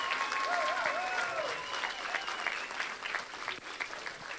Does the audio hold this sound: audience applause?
yes